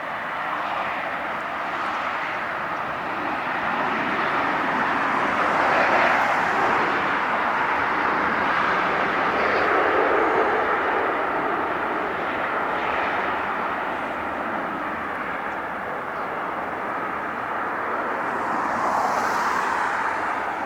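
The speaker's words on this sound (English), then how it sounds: "we'll do the American Eagle coming in from Austin, Texas." An American Eagle passenger plane arrives to land at LAX, its steady broadband jet roar holding loud and continuous for the whole stretch, swelling slightly midway with no voices over it.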